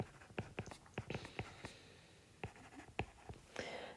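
A pen scratches on paper in short, quick strokes and taps, close and quiet, with brief pauses between bursts of writing as a maths answer is jotted down.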